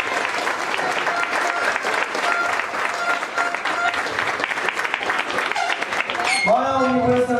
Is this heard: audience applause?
yes